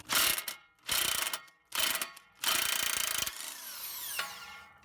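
A ratchet with an 18mm socket clicks in four quick bursts of rapid ratcheting on a 2008-2016 Chrysler Town and Country CV axle, close and crisp, followed by a lighter metallic rattle as the nut spins loose.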